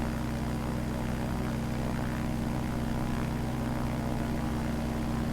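Steady, continuous propeller drone of a Sting S4 ultralight plane in Microsoft Flight Simulator 2020, a dense, even engine buzz held at constant loudness throughout.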